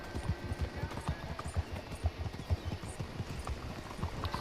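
A horse's hooves clip-clop at a steady walking gait in the video game Red Dead Redemption 2, each soft, distinct thud falling in an even rhythm, fairly quiet and close with no speech.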